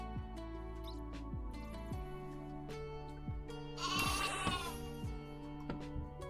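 Sheep in the Cobblemon Minecraft mod bleat over a continuous game soundtrack, with one clear, fairly loud bleat standing out midway and no talking.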